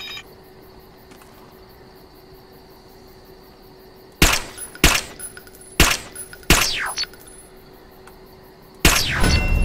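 Sharp, loud gunshots from Interstellar Marines ring out in separate bursts after a quiet stretch. The shots come as single cracks and short clusters with a metallic ring, and no one speaks.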